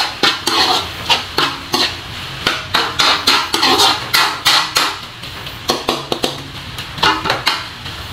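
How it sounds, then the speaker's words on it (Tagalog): Pork adobo with Cajun lemon is stirred in a pan, a utensil scraping and knocking against the metal in quick repeated strokes over a soft sizzle, loud and close. "Saka natin halu-haluin para ma-mix."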